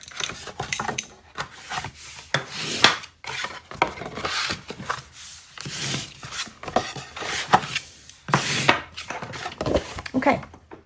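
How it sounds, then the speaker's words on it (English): Paper being folded along score lines and rubbed down with a bone folder while making a cube box, a series of close scraping, rustling strokes in uneven bursts. "So let's fold on all those score lines and burnish it with your bone folder."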